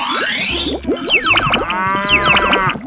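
Cartoonish cow moos from a 3D animal video game, a few drawn-out lowing calls mixed with bright boings, sliding tones and playful game effects, loud and busy throughout.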